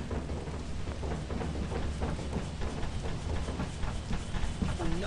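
Steady heavy rain hisses throughout while low thunder rumbles underneath in Lethal Company, a continuous stormy wash with no voices.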